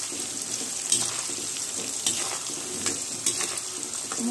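Mango-free kitchen frying: a pan of food sizzling with salt and turmeric mixed in, a steady close hiss broken by a few light stirring clicks and scrapes, with no talking.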